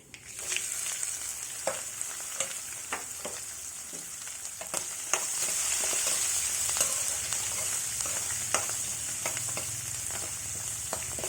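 Dried red chillies and garlic fry in a pan with a continuous bright sizzle that swells partway through, punctuated by scattered clicks and scrapes of a stirring spoon; no voices.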